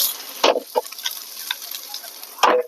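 Okra frying in a pan gives a soft, steady sizzle, broken by a few sharp scraping stirs near the start and again toward the end, with no talking.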